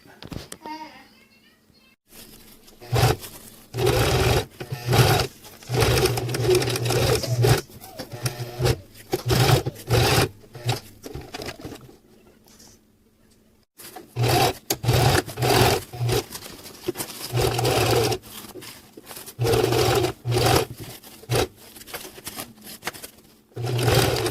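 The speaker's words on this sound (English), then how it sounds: "Okay, we're all done sewing our lid." A sewing machine stitches the lid of a drawstring pouch with grosgrain ribbon, running in repeated loud bursts of rapid mechanical whirring with short pauses between them and a longer stop midway.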